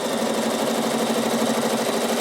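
A Bernina sewing machine stitching at a steady fast rate, a loud, even mechanical whir and rapid needle chatter running continuously and close, with no talk.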